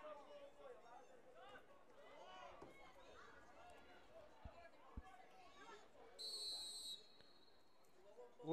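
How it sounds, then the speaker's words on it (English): A short, sharp referee whistle blast signaling a stoppage in a boys' high school soccer game cuts through steady crowd noise and commentary, lasting under a second. "Whistling a stoppage"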